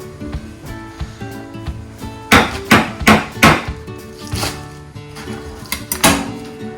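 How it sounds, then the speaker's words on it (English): Onions chopped with a knife on a cutting board while making potato soup: a burst of several quick, firm chops in the middle, then a few more after a pause, close by over light kitchen background. "I'll cut some onions next to you"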